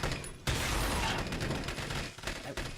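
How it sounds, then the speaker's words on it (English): Rapid gunfire in the shooter game Rage, a dense fusillade of overlapping shots and clattering mechanical noise, loud and continuous for under three seconds. "Come on, stop shooting me."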